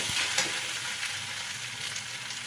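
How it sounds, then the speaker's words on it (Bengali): Onions with poppy seeds fry in a pan, giving a loud, continuous sizzle with a few stirring scrapes, and no talking. "আমি একটু পেঁয়াজের সাথে কিন্তু ভাজা ভাজা করে নেব"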